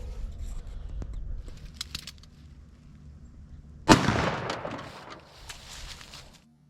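A .44 Magnum revolver fires an Underwood Extreme Hunter XTP load into clear ballistic gel, one sharp, loud shot that rings out after a quiet stretch of faint outdoor background and birdsong, then decays.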